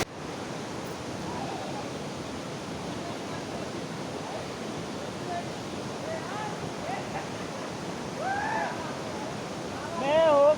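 Constant broadband rush of flowing water at a Golumale bathing spot fills the scene, with faint voices and a louder burst of sound near the end.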